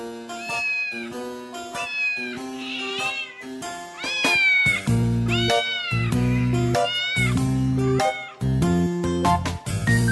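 Cat meowing in a Thai children's song, repeated melodic meows over a bouncy bright instrumental with bass notes joining partway, loud and continuous throughout.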